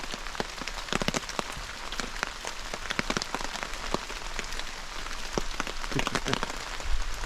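Rain falls in the woods and patters steadily on a tarp and the ground around, a dense hiss with scattered louder drops close by, continuous and without voices.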